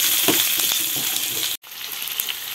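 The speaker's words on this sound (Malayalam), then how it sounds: "ഇനി നമുക്ക് സവാള ഇടാം. അതൊന്ന് മൂക്കട്ടെ." Sliced onions frying in hot oil for cauliflower curry, a dense, loud crackling sizzle with a few stirring scrapes, briefly cut to silence midway before the sizzle resumes.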